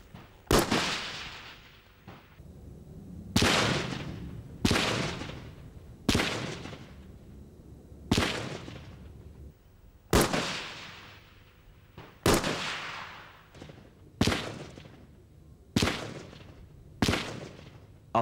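Small arms rounds strike a single-layer sandbag wall in a run of about a dozen sharp, loud reports spaced a second or two apart, each one ending in a short decaying echo.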